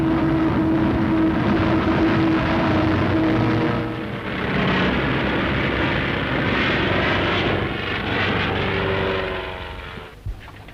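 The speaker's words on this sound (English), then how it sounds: "Finally, the sensational dive bombing, 300 miles an hour." A pre-war military training aircraft dives at about 300 miles an hour, and its engine gives a loud, sustained roar that dips briefly and swells again before fading toward the end.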